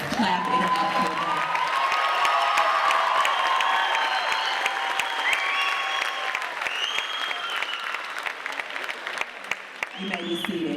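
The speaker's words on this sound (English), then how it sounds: "Clap it up for them." An 8th grade bridging ceremony crowd claps and cheers loudly for the graduating students, a dense, sustained ovation with whoops and children's shouts mixed in, easing slightly toward the end as voices come through.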